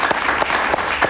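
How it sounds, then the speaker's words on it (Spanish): Studio audience applause on a Spanish-language talk show, a steady dense clapping that fills the whole moment without a break. "Un aplauso para él"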